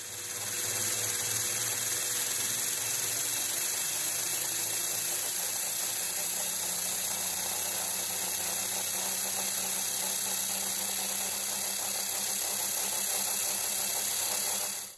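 A 3D-printed six-ratio magnetic gearbox spins at high speed, rated toward 18,000 RPM, giving a steady, loud whirring whine with a constant mechanical hum that holds unbroken for the whole stretch.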